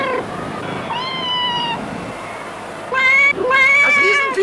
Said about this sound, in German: Das ist kein Hund, das ist eine Katze.